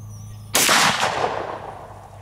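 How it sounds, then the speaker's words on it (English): A single loud, close rifle shot from a Big Horn Armory Model 89 lever-action chambered in 500 S&W Magnum, firing a 500-grain flat-point load, with a sharp crack and a reverberating tail that fades over about a second and a half. "Always wait till y'all are with me to take the first shots with a new gun."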